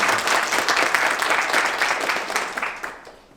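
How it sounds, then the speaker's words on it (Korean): An audience applauds a professor at a college capstone design competition, a dense burst of clapping that starts full and fades out over a few seconds. "큰 박수로 감사드립니다"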